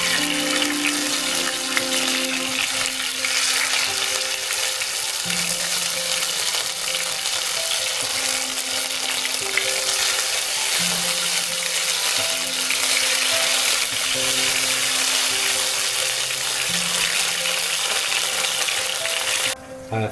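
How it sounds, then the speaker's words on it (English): Salmon strips fry in oil in a pan over low heat, giving a steady, close sizzle throughout, with faint background tones and no talking. "I have added all the salmon strips into the pan. So now I'm going to fry them in low heat."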